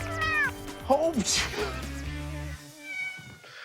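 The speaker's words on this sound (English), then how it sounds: "of cats in the pen grows, so does the caterwauling" Several cats in a pen meow and caterwaul loudly, with rising and falling wails overlapping each other while a person speaks over them.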